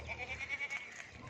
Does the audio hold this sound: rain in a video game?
no